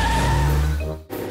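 A cartoon car takes off in a hurry, its engine whining with a steady pitch before a sharp tire squeal and skid, then a brief drop and renewed motor noise, close and loud.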